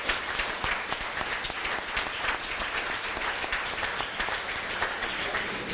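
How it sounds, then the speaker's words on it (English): A banquet audience at a high school spring sports banquet applauds the booster club officers, a dense, continuous patter of many hands clapping at moderate volume with no pauses. "So nice round of applause for them,"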